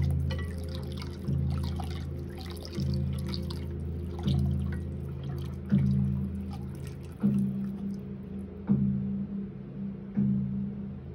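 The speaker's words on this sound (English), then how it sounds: "We are just going to pour this milk in." Milk is poured into a homemade bath mixture, giving soft, close liquid trickles and drips with light knocks recurring every second or so, quiet and without voices.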